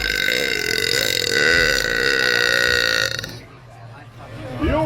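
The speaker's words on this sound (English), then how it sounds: "The old Viking burp." A long, loud, deep burp from a woman, rumbling close to the listener for about three seconds before a short voiced sound follows.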